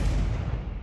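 A Confringo blasting spell explodes in Hogwarts Legacy, a single dense, loud boom that rumbles heavily and fills the whole short moment without any voices.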